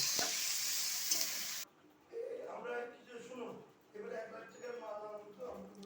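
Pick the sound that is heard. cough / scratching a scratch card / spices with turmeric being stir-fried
spices with turmeric being stir-fried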